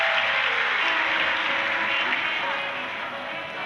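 A large audience claps loudly and steadily in a dense, sustained wash of applause, welcoming the host families at a Shiv Mahapuran religious gathering in Sirpur, Maharashtra. The applause fades slightly toward the end, with no voice over it.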